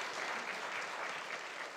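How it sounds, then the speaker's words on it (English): Audience clapping for Professor Lawrence at an economics forum session, a steady, even patter of applause heard from a distance and fairly faint, with no voices over it. "let's give a big round of applause to Professor Lawrence"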